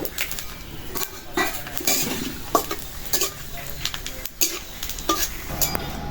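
Dried red chillies, cumin seeds and bay leaves drop into hot oil in a pan, bringing a steady close sizzle broken by scraping and clinking of a utensil against metal.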